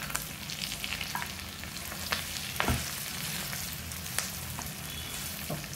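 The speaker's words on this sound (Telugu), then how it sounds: "కొంత గరం మసాలా చికెన్ మసాలా వేసి కలపాలి" Chicken stirred in a hot pan with garam masala and chicken masala for a chicken fry, a steady close sizzle of frying with a few sharp scrapes of the spoon against the pan.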